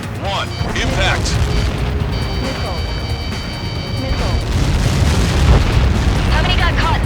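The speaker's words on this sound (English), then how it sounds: "How many got caught in that explosion?" A huge explosion in the video game Ace Combat 7, a deep rolling boom and rumble lasting several seconds, with radio voices and game tones layered over it.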